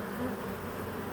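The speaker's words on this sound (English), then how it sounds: "Okay, we got a lot of bees right here." A large swarm of honey bees buzzing up close, a dense, steady drone that fills the whole moment with no pauses.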